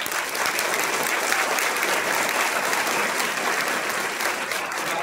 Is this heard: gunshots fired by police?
no